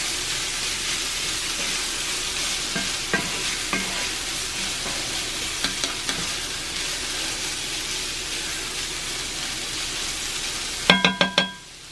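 Noodles and broccoli fry in a cast iron pan with a steady broadband sizzle, broken by a few sharp utensil scrapes and clanks, a louder cluster of clattering near the end.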